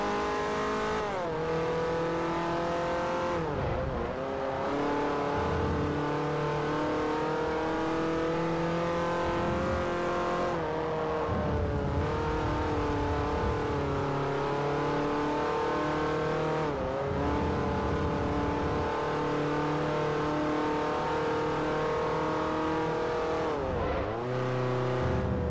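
A Mazda race car engine in Forza Motorsport 4 roars steadily throughout, revving up and down as gears shift, with brief dips and tire noise, loud and close with no talking.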